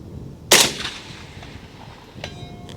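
Single sharp rifle report from an AK firing Hornady American Gunner 7.62x39 ammunition, with a faint metallic ring from a distant steel gong hit about 1.7 seconds later and a long decaying outdoor echo.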